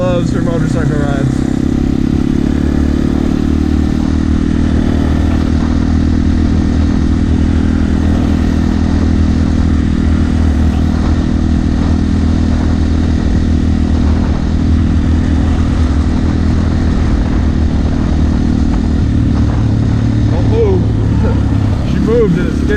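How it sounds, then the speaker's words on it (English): Dirt bike motorcycle engine drones steadily and loud throughout a ride, with a dog riding along; wind and rumble run under it and a voice speaks briefly over the engine. "She just loves her motorcycle rides."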